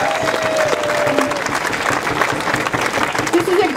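Audience applause at a community gathering, a dense, steady burst of clapping from a crowd with a brief tone and some voices mixed in, fairly loud and continuous.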